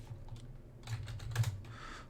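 Quiet typing on a computer keyboard, a quick run of soft clicking keystrokes over a faint low hum.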